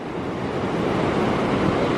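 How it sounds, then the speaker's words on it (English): Ocean waves on a beach wash in as a steady, loud broadband roar mixed with wind noise on the microphone, continuous with no distinct breaks and no talk. "Oh, this is a pretty high wave."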